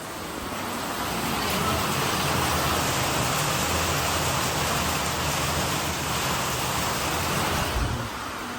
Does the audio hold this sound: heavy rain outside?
yes